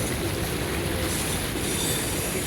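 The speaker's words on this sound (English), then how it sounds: "the metallic rolling of the rail, the wheels, train wheels" Steady metallic rolling of train wheels on rail, a continuous dense rumble with faint high squeal, loud and close, no voices.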